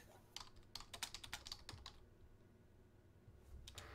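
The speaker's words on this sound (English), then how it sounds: "because I'm typing messages" Quick, light clicking of keys on a computer keyboard while messages are typed, coming in irregular bursts close to the microphone, then a pause and a short final flurry, with no talking.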